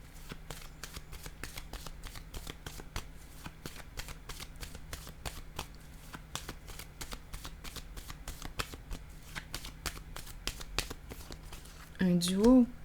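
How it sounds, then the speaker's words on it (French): Oracle cards shuffled in a steady run of rapid crisp flicks and riffles, close and fairly loud, continuing for several seconds before a voice briefly breaks in at the very end. "Allons-y avec une nouvelle carte sur l'harmonie."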